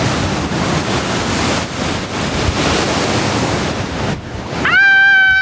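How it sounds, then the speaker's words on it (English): Loud Southern Ocean surf crashing steadily at a coastal lookout, a dense broad roar filling nearly the whole stretch before briefly dropping away as a high whistling tone cuts in near the end. "The ocean is so loud."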